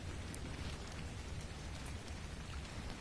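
Steady rain falling at night in the game Ark: Survival Evolved, a dense even patter that holds at a constant low level throughout with no talking.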